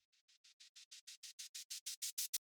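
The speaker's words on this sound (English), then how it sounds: "I added this Transgate plugin from the Kilohertz company," A reversed EDM crash cymbal riser, faded in and chopped by a Kilohertz Transgate plugin, pulses in about fourteen evenly spaced bright bursts that swell steadily louder before cutting off abruptly.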